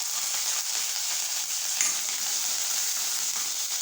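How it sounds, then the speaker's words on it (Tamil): Cinnamon, cloves, cardamom and curry leaves frying in hot oil for a tomato coconut milk curry give off a steady, close sizzle, continuous and even with a faint stir partway through. "பட்டை, கிராம்பு, ஏலம் எல்லாத்தையும் போட்டு கருவேப்பிலை"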